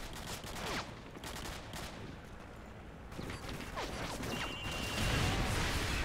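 Distant gunfire crackles through a noisy firefight in the video game Modern Warfare 2, scattered shots and bursts layered over constant rumble, fairly faint throughout.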